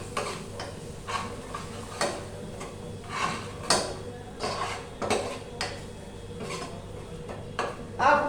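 A spoon scrapes and knocks against a pot while chilli spices are stirred into palak rice, making repeated close clinks and scraping strokes over a soft background hiss.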